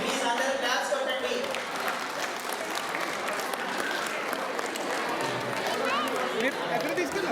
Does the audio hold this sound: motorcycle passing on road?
no